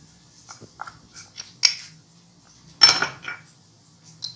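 Ingredients including Worcestershire sauce, mint and green chillies being mixed in a bowl with utensils for chicken donuts, a few scattered clinks and scrapes separated by quiet gaps, close and alone.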